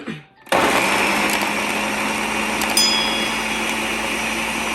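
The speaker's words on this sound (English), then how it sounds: "I will blend it now. Just turn the peanut and the milk inside." Peanuts and milk whirl in a kitchen blender that starts abruptly and then runs with a loud, steady high-pitched whine, with a couple of small clicks partway through.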